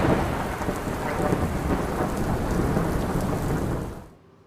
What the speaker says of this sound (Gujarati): લાંબા વિરામ બાદ આજે અમદાવાદમાં વરસાદ વરસ્યો.